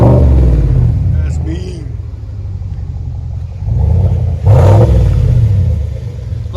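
Deep exhaust rumble from a 2020 GMC Sierra AT4 pickup with a 6.2L V8 and Flowmaster FlowFX dual exhaust with black tips, revving steadily with a louder surge near the end, while a voice talks briefly over it.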